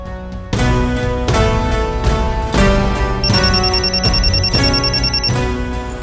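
A phone ringtone plays as a loud melodic ring, a repeating pattern of clear tones over a steady backing, with no voices over it.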